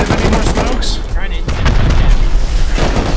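A rocket explodes in the video game Rust with a loud, heavy boom that rolls into a short crackling tail, while players talk close by.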